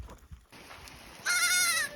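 Goats on an Alaskan homestead let out a loud, wavering bleat after a short stretch of quieter background sound.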